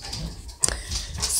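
A pet dog whimpers and yips briefly, one sharp high whine near the middle with softer whining and rustling around it, fairly close by.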